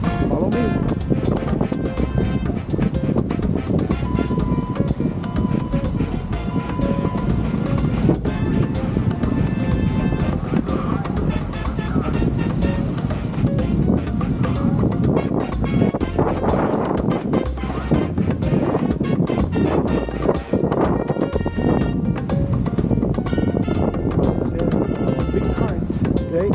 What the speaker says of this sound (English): it's very rough on the beach, a lot of wind